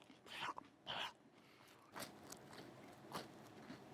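A bite into crusty red bean butter bread gives several faint crunches and crackles close to the mouth, with two sharper bites early and softer chewing after, all fairly quiet with no talk.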